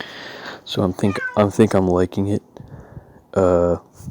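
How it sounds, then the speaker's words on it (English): A house cat meows in the background while someone talks over a market analysis. Short meows come between and under his speech, with one clearer cry near the end. "that's my cat in the background."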